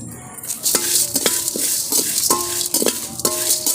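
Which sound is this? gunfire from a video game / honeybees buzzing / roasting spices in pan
roasting spices in pan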